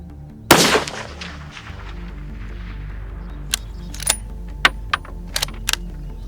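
A Ruger 6.5 Creedmoor rifle fires a single loud, sharp shot at a long-range target, its report ringing out and decaying over about a second, followed by several faint, distant clicks and taps.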